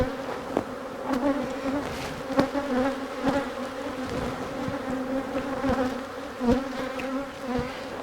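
A dense, continuous hum of honeybees fills the air close by while frames are shaken during a beehive split using swarm cells, broken by occasional sharp taps and bumps from the equipment.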